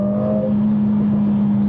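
A Mercedes CLA45s AMG car engine sounds as a loud, close, steady drone with a held tone, brief and without voices.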